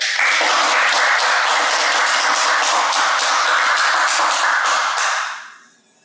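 An audience at a Monday lecture series bursts into loud, dense applause to welcome an architect lecturer. The clapping holds strong and even for about five seconds, then fades out quickly, with no talking over it.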